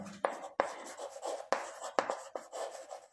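Chalk or pen writing on a board or paper during a math lesson: several sharp taps and short scratchy strokes in an irregular rhythm, close and fairly quiet, with no talk over them.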